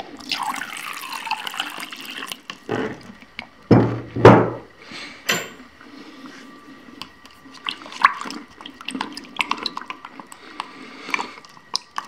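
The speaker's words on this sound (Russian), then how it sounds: "Я его, наверное, холодной водой разведу." Cold water poured and splashed into an American MRE food pouch (Menu No. 17) to dilute it, with close trickling and a louder gush near the middle, plus light handling noises.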